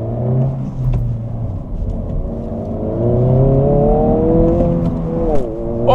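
The engine of a 2024 Honda Civic Si rises and falls in pitch through manual downshifts with rev-matching blips, a loud close drone with a throaty hum, heard from inside the cabin.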